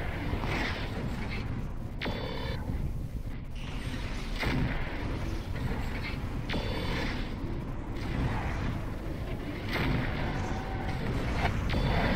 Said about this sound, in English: As you can see, medium lasers don't really do a whole lot.